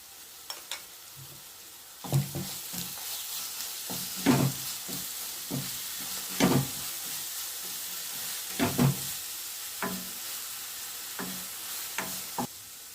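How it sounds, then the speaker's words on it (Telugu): Ground spice paste for a Vizag-style fish curry frying in a pan, a low steady sizzle punctuated by repeated scraping stirs and clinks at irregular intervals. "పేస్ట్ని కూడా ఇందులో వేసుకొని 1 నిమిషం పచ్చివాసన పోయేలాగా ఫ్రై చేసుకోవాలి"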